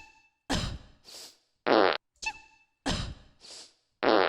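Several short electronic fart noises from a novelty keyboard sound in quick succession, abrupt synthetic blasts with silent gaps between them.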